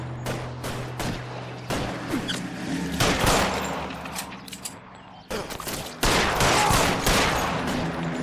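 Gunfire erupts in the L.A. Noire video game as dense, continuous volleys of shots. Bursts overlap into a steady loud fusillade that swells louder in the final seconds.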